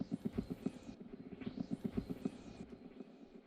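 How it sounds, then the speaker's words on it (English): A coffee maker treated with echo and reverb effects gives a rapid, steady chugging pulse with a breathy, whooshing sweep over it, repeating twice before thinning out. "it's just a coffee maker with some effects on it"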